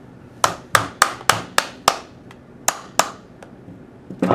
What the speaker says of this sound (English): You also may need a mallet to help push the pins all the way through.